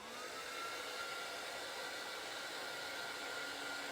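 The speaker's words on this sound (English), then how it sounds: "So I'm just going to give this a quick blast with my heat tool just to emboss the embossing powder." A heat embossing tool blasts hot air over embossing powder on a papercraft project, a steady loud whooshing roar like a hair dryer that runs unbroken and close for the whole stretch, with no talking.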